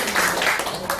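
Church congregation applauding during an anniversary service at GBI Rhema Illahi, a steady mass of hand claps at moderate loudness with a faint tonal backing under it.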